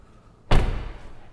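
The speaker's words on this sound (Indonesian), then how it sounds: "Buka pintu seperti ini." A frameless door on a BMW iX electric SUV swings open with a single sudden, loud thud followed by a short fading rumble, heard alone and close by.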